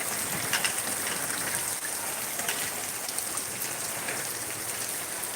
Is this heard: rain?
yes